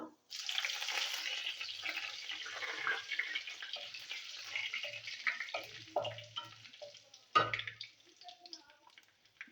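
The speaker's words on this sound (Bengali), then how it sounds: "তেল গরম হয়ে গেছে, দিয়ে দেবো 5 ফোড়ন, শুকনো লঙ্কা" Five-spice seeds (panch phoron) and dried red chillies hit hot oil, bursting into a sharp sizzle that crackles on and slowly fades, with a clatter of utensils near the end.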